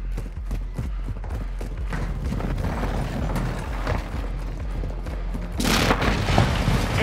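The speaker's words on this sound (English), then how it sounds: "Precision airstrike." Precision airstrike explosions in Modern Warfare 2 thump in a rapid series of deep booms, loud and close, rolling into a heavier blast toward the end.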